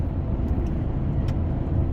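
Steady road traffic near a highway interchange, with cars queued in heavy congestion, a continuous low rumble of engines and tyres heard from inside a vehicle, with no distinct passes.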